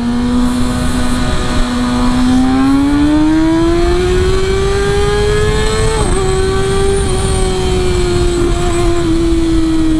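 A Kawasaki Ninja ZX6R motorcycle engine runs loud and close on a test ride, a steady high-pitched whine that climbs slowly in revs with a brief dip near the middle, alone without talk.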